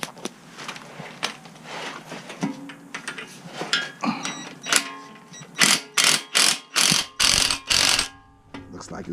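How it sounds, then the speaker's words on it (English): Impact wrench hammering on the wheel hub of an Acura Integra, a series of about six sharp, loud bursts in a row near the end, after a stretch of clanking mechanical work. "Hopefully my impact does the job, because that's all I have."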